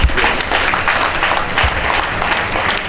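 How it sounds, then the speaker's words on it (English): Applause at an African family induction ceremony in Los Angeles: a dense, loud crowd clapping steadily and continuously, with a faint murmur of voices mixed in. "Please continue to give them a round of applause"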